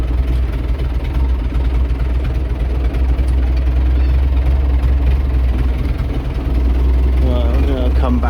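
Tractor engine idling steadily while being parked in a farm yard, a loud constant low rumble throughout, with a brief voice near the end.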